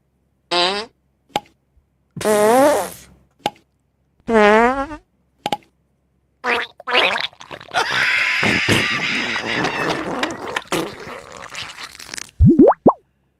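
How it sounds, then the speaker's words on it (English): Comic fart sound effects in a joke commercial, a series of loud, wet, burbling blasts and squeaks, some drawn out and quivering, with short pauses between them and a longer rumbling stretch in the middle. "And there is your freshly brewed fart."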